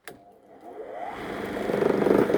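An old petrol lawnmower engine starts with a quick pull and then runs, its steady mid-pitched drone growing louder and rougher over a couple of seconds, close by with no talking.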